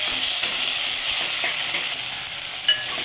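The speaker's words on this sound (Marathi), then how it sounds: "सॉफ्ट होईपर्यंत परतून घ्यायचं." Boiled spinach sautéing in a pan until soft, giving a steady, close, crackling sizzle with faint scraping, and no talking.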